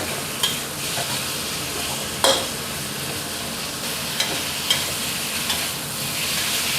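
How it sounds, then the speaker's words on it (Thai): Thinly sliced fatty pork shoulder stir-fried in a hot wok for stir-fried kale with pork, a steady close sizzle broken by sharp scrapes and clanks of the spatula. "ใส่เนื้อหมูลงไปได้เลยครับ"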